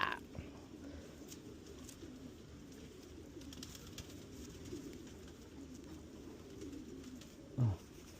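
Racing pigeons coo softly and continuously inside a fly loft, a faint low murmur that holds steady throughout, with one brief louder sound near the end.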